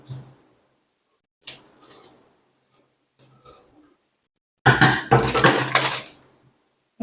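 Scissors cut a paper pattern for a size 32 princess-cut blouse, giving soft close snips in short bursts followed by louder rustling crinkles of paper, with quiet pauses between.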